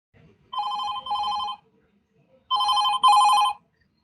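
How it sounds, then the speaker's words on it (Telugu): A mobile phone rings with its vibration mixed in, giving two pairs of bright electronic rings separated by a short silence, clear and close. "రింగ్తో పాటు వైబ్రేషన్ కలగలిసిన విచిత్ర శబ్దంతో మొబైల్ ఫోన్ మోగుతూ ఉంటే"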